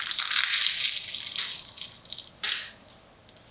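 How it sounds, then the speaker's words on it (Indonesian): Crispy fried chicken heads and necks, coated KFC-style and still crunchy after six hours, crunch loudly in close bites, with sharp crackling bursts that fade toward the end. "masih tetap pecah dan super crispy"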